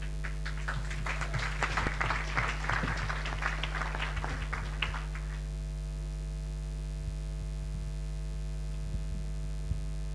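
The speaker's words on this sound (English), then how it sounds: "Let's warm him up with some applause." Audience applause at a morning presentation session on project management at a conference in Chania, a dense burst of clapping over a steady electrical hum that fades out after about five seconds, leaving only the hum.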